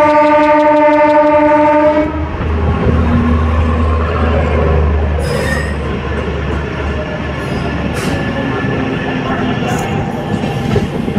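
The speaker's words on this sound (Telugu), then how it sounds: "ట్రైన్ వచ్చేసండి కరవాడి రైల్వే స్టేషన్ నుండి అయితే డిపార్ట్ అయిపోతుందండి" A train running through Karavadi railway station near Ongole, opening with a loud sustained horn blast, followed by a steady rumble and rattling wheels close by, with voices in the background.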